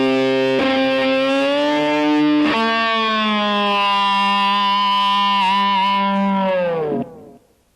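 An electric guitar with the whammy bar held up a whole step sounds tapped notes that sustain as a distorted, singing tone. Two sharp attacks start it, and the pitch dips as the bar comes down at the end. It plays alone.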